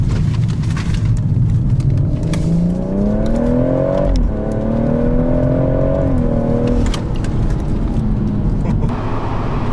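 A BMW M140i engine pulls hard from low revs, its tone climbing steadily, dipping briefly at a gear change, then rising again before easing off, loud under constant road and wind noise.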